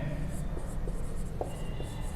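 Marker or chalk writing on a board during a physics lecture on friction, a series of soft scratchy strokes in a steady rhythm, close and fairly quiet over a low room hum, with no talking.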